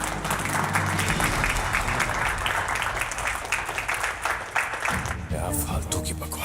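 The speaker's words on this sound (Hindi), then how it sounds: "तो मैं चाहता हूं कि इनका वेलकम आप अपनी जोरदार तालियों से करें।" A studio audience claps to welcome a guest, a romantic film actor, in a Hindi TV serial scene, with steady applause under overlapping music and talk.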